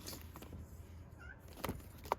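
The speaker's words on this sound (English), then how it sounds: "What do you meow for," A pet cat meows twice in a garden setting, two short distinct calls near the end, fairly faint against low background noise.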